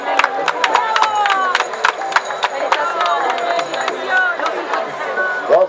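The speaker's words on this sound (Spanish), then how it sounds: "Un aplauso también para ella." Spectators at a 10K road race in Los Cardales clap and cheer for an approaching runner, with sharp claps scattered over crowd chatter, and an announcer's voice heard over the scene throughout.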